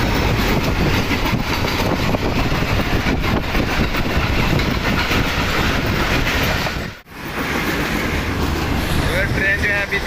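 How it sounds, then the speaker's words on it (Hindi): A fast train passes a railway station in a Pakistani town, a loud continuous roar and rattle of wheels and cars filling the scene, dipping briefly before carrying on, with voices faintly mixed in. "बहुत ही तेज चल रही है ट्रेन, कोई आगे आए नहीं।"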